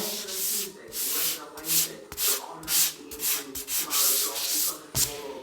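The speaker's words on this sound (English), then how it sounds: "You have to sand it with the machine" A sanding machine works over wooden stairs with repeated rhythmic passes, the abrasive rubbing swelling and fading in loud close strokes.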